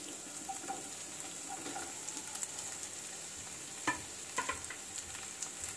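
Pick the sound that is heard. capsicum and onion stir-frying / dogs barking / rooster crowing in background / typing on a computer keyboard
capsicum and onion stir-frying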